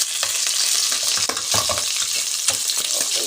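Pakbet vegetables frying in hot oil, a dense, continuous close sizzle with small pops and crackles and occasional stirring scrapes, loud and steady throughout.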